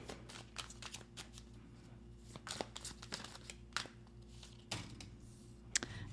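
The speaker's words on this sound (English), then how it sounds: "These cards are so hard to shuffle" Tarot cards being shuffled with stiff difficulty, giving soft, uneven riffles and flicks and scattered crisp card snaps over a low steady hum, close and fairly quiet.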